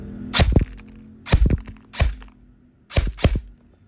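An E&C 204 G28 airsoft AEG rifle fires four separate semi-auto shots, each a sharp, close crack with a short mechanical thunk, spaced about a second apart with quiet between them.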